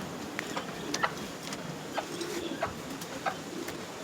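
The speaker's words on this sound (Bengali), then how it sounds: "মুরগি আছে" Faint, scattered clucks and soft coos from a few chickens in a coop, nearby but quiet, over a steady low background hum.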